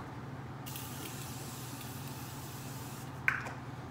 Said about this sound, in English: I'm gonna go in with setting spray real quick.